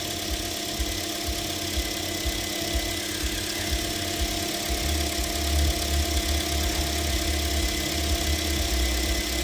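A 2013 Toyota Corolla engine idles with a misfire, a steady mid-pitched rumble with faint uneven knocking pulses, continuous and close.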